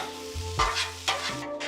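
Hash browns on an outdoor griddle, a soft frying sizzle broken by a few scraping, shifting strokes as they are pushed around, close and brief, with no speech.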